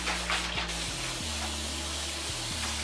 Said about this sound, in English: We're just gonna spritz it a little bit